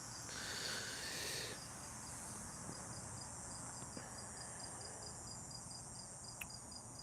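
An insect in warm weather keeps up a steady high pulsing buzz in the background, fairly faint, with a brief louder hiss near the start and no talk.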